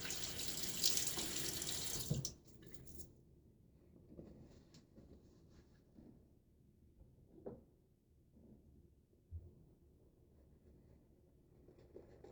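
Water runs from a tap into a bathroom sink during a wet shave for a couple of seconds, then stops, leaving quiet scattered small splashes and clinks.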